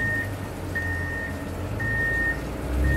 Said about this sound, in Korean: 기계차 소리 시끄러워 죽겠다